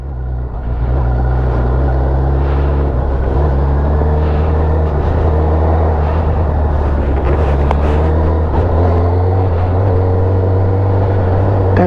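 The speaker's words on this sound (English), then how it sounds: "That engine braking is gnarly." A 2021 Honda CBR1000RR motorcycle engine braking at highway speed, a loud, continuous engine drone with steady harmonic tones, heavy wind rush around the microphone and no talk.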